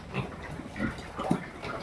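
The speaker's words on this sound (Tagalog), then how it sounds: "baboy" Pigs and piglets in a backyard farm pen, with soft grunts and oinks scattered over a busy, noisy background.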